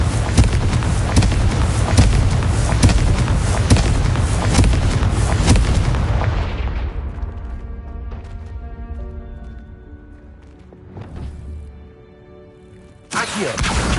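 Confringo blasting spells explode in Hogwarts Legacy, a rapid, loud barrage of booming blasts that fades into lingering rumble and sparse crackles before one more sharp blast at the end.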